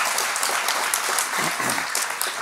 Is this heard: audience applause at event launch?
yes